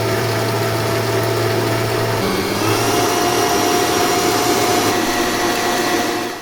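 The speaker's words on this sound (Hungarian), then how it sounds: "így szólt a Kenwood maximumon" Kenwood kitchen stand mixer running at maximum speed, a steady loud motor whir with an even hum that shifts slightly partway through, continuous and close with no talking.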